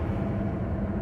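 Steady low engine rumble from a car being driven, a continuous dense drone with no talk over it.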